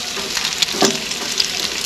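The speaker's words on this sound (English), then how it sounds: "to the patties, and we also added our onions to the pan" Beef patties topped with cheese and onions sizzling in a frying pan outdoors, a steady close crackling hiss with a few sharper pops and spatters over its short length.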